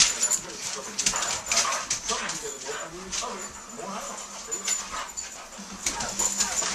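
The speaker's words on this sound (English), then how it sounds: "Yeah, two setters. Two Llewellyn setters. This is what they act like." Two Llewellyn English setters wrestle indoors, whimpering and yipping with scuffling movement, close by, while people talk in the background throughout.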